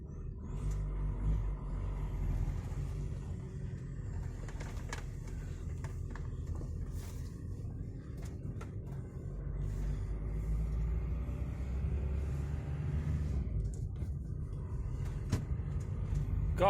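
VW T5 van on a test drive, continuous low engine and road rumble at a quiet, steady level with occasional rattles and clicks from the cabin.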